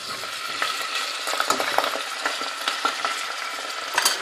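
Apple gourd (tinda) fries in hot oil with spices, making a soft continuous sizzle with light crackles and occasional utensil clinks, fairly quiet and without talk.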